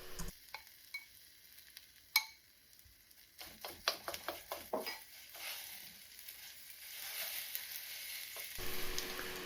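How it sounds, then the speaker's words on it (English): Natto is stirred with cooking chopsticks in a hot pan, giving a series of sharp taps and clicks over a rising sizzle that grows louder and denser toward the end, with no voices. "You can see I'm mixing around the natto a little bit because the mixing helps to activate those really sticky strands."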